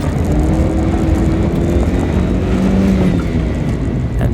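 A Toyota MR2 Spyder accelerates hard on an autocross course, its engine a loud, steady in-car drone with a rising tone, heard alone.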